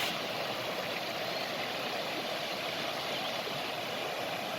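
Continuous broadband roar of rushing water from Kocaçay Waterfall in Döşemealtı, steady and unbroken throughout, heard from a moderate distance.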